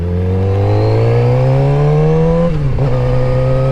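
A 600cc motorcycle engine revs loudly and close, its pitch climbing steadily as it accelerates through a gear before briefly dropping at the shift and pulling again.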